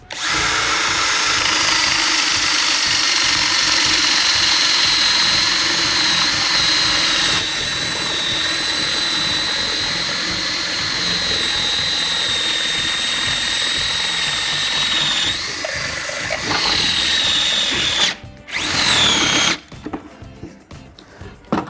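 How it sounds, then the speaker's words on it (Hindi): A Bosch GSB 18V cordless impact drill driver boring a 20 mm hole in wood, a loud close continuous whine that holds steady, then stutters and cuts off near the end. "ये 20 mm की वुड ड्रिल बिट है, इसके साथ भी ये आसानी से इसमें छेद कर देगा।"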